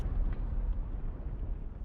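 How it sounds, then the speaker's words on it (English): A deep, sustained rumbling roar, loud and heavy in the low end, like the drawn-out aftermath of a massive explosion of a tank with no voices. "Which leads to a massive explosion."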